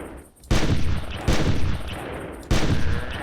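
Three loud gunshots in Carnivores+, aimed at a dinosaur, each a sharp blast with a long echoing tail, spaced about a second apart.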